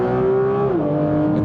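Porsche 911 GT3, the hardcore normally aspirated model, screams loudly around the Valencia track, its high engine note holding steady and then dropping sharply in pitch, as during an upshift or lift, with no other sounds.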